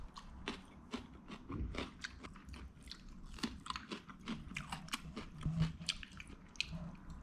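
Someone biting and chewing a taco from an LA taco truck, dipped in salsa. Soft close crunches and wet mouth sounds come in an irregular run, with quiet background noise and no talk.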